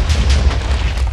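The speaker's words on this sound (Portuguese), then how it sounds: "A gente consegue voar com o poder das explosões" Rumbling explosion blasts from a Boku no Hero superhero mod in Minecraft, a dense, continuous low boom that rolls on without pause and stays loud throughout.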